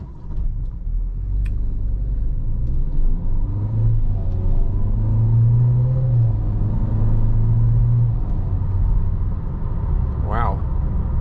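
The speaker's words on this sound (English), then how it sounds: "actually I think I've heard the exhaust for the first time" Geely Coolray 2024 compact SUV with a 1.5-litre 172 hp engine and 7-speed dual-clutch gearbox accelerating on a highway at night, a steady low exhaust and engine rumble rising with speed inside the cabin, with a brief voice near the end.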